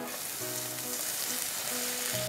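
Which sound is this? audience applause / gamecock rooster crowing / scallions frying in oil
scallions frying in oil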